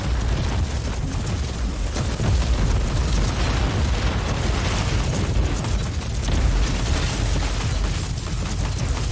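A tank firing on a Sentinel walker in Warhammer 40,000: Inquisitor, a loud dense barrage of booming explosions and blasts rolling continuously without a break.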